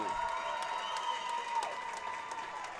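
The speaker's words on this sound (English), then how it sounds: "Wow, a big cheer here." A crowd at a Scottish national age group swimming championship applauds and cheers a gold medalist, steady sustained clapping with whistles, echoing in an indoor pool hall.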